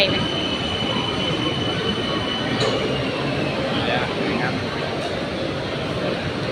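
A train rolls along with a constant rumbling clatter and a thin high squeal of wheels, loud and unbroken throughout.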